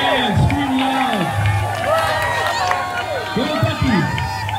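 A crowd at a duck derby cheers, screams and whoops loudly and continuously, with children's shouts rising above the din and voices calling out throughout.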